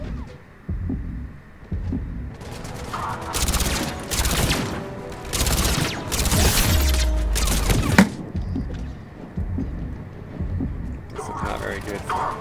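Gunfire in Mass Effect 3: bursts of rapid automatic shots come in loud clusters over a low humming game soundtrack, with a voice talking in places.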